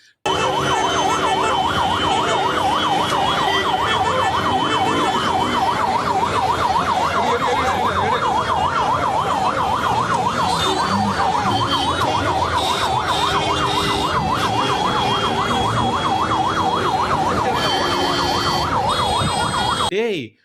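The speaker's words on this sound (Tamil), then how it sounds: "அந்த ஆம்புலன்ஸ் அதுக்கப்புறம் கடந்து போக முயற்சி பண்ணுது" An ambulance siren wails loudly and steadily for about twenty seconds, close by, as the ambulance tries to get through traffic blocked near a political campaign event in Namakkal, with road noise beneath.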